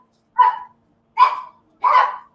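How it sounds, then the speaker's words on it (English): Two dogs bark three times in the house, each bark close and loud with short gaps of silence, reacting to someone coming in. "I have two dogs. They have to do their job, honey. They take that job serious."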